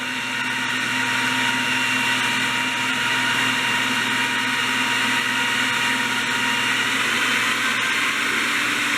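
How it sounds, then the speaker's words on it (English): A kitchen blender running steadily for the whole stretch, whirring through milk and the ingredients for a creamy spinach artichoke dip, with a loud, even motor whine and no pauses or talk. "I'm about to get started and start blending this."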